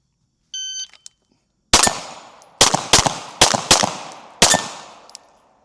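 Gunshots fired at targets on a shooting course, a short electronic beep followed by five loud, sharp reports spaced about a second apart, each with a ringing decay, heard up close with no talking.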